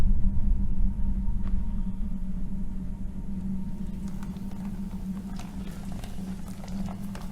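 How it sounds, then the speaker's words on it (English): Steady rainfall patters in the video game Cloud Climber, a continuous soft hiss over a low rumbling hum that holds at an even level for several seconds with no voices. "Hey, we finally got our rain."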